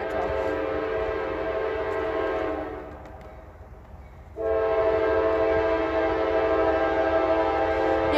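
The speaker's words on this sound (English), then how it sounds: "Yeah, that's a rack train." A slow freight rack train rolls past in Folkston, Georgia, its horn sounding loud and steady with dense rail noise that dips briefly around the third second, then returns at full strength.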